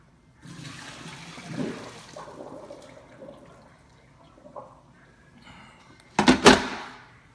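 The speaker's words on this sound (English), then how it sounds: "This is everything that was just in there, so we're going to drain it real quick." Liquid drains from slow-cooked pulled pork in a crock pot, a soft continuous pour and trickle. A sharp clunk of the pot or lid comes near the end. There is no talking.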